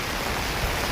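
Heavy monsoon rain pours down in Nainital with a dense, steady hiss that fills the whole moment, loud and close, with no talking.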